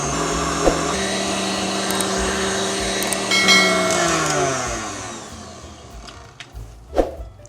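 Electric hand mixer beating meringue for strawberry pavlovas on high speed, a steady loud motor whine with pitch dropping and shifting midway, then fading, with a few clicks and knocks near the end.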